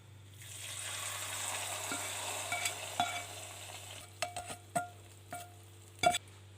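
Hot tempering oil with whole black peppercorns, flame off, poured into cooked mash dal, giving a steady sizzling hiss with several sharp crackles and pops near the end, close and fairly loud with no talking.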